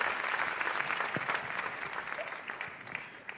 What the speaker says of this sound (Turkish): sizlerin büyük alkışlarıyla yerlerini arıyoruz